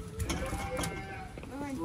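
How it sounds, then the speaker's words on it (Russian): A ram at a zoo bleats in a short, wavering cry, heard up close over background noise. "Это баран орет."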